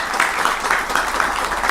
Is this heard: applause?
yes